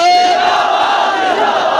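A large crowd loudly chanting the religious slogan Tajdar-e-Khatm-e-Nabuwwat in unison at a rally, a sustained, close, roaring vocal shout with a high-pitched tone running through the start.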